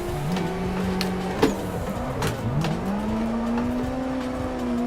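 A Nissan R34 Skyline GTS-T drifts on the Shutoko Wangan in modded Assetto Corsa, its engine note holding steady, then dipping and climbing again with a few sharp clicks, close and continuous.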